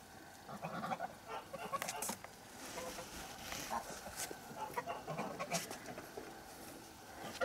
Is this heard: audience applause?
no